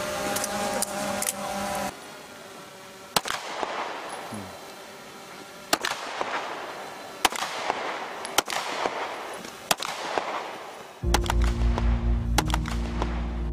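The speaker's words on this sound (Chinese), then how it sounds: "队员们要移动到25米处完成最后一组射击。" Rifle shots at the 25-metre distance of an armed police special forces field shooting test: sharp single reports spaced a second or two apart over steady outdoor background noise.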